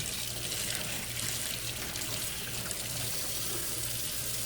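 A glass bong stem gets scrubbed under a running tap, a steady broadband hiss of flowing water and sink splash holding level throughout, close and moderately loud with no voices.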